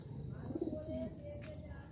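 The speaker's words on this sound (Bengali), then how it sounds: "ওদের ওদের পায়রা উঠছিল ওদের সাথে।" Pigeons cooing at close range during a night-time pigeon catch, with soft low coos and a few faint chirps against a steady background murmur.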